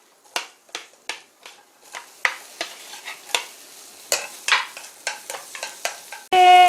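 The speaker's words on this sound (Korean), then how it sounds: "마늘하고 고추, 파를 식용유에 먼저 볶아줄게요" Garlic, chili and green onion stir-fry in cooking oil, heard as a quick series of sharp sizzling bursts and spatula scrapes, close and rhythmic, ending in a louder sustained hiss.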